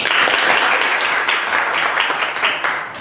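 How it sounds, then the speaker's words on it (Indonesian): Applause from a live podcast audience at a student election talk show, a dense, steady wash of many hands clapping that holds strong for about three seconds before thinning slightly near the end. "Tepuk tangan dulu dong."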